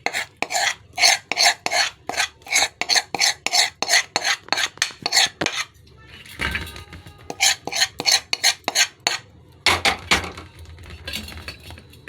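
A spoon scrapes and clinks rapidly against a pan while peanut chikki mixture is stirred fast, a dense run of sharp strokes, a brief pause, then another quick flurry.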